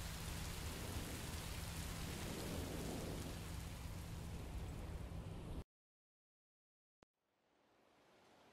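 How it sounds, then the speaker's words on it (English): Steady, dense rain hisses loudly in the video game Minecraft: Story Mode with a low hum underneath, then cuts to silence, a brief click, and softer rain swelling back in. "Rain is better than monsters."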